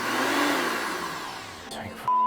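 Kitchen blender whirring steadily with a high, dense motor roar as cream spins without catching, loud and close; the motor cuts out near the end, followed by a brief clatter.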